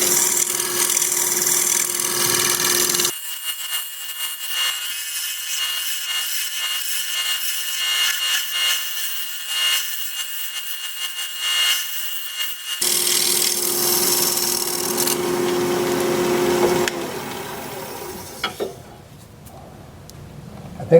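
A scraper shears across spinning curly maple on a wood lathe with a dry, raspy hiss. It comes in bursts: a strong pass, a long quieter stretch, another strong pass, then it fades out.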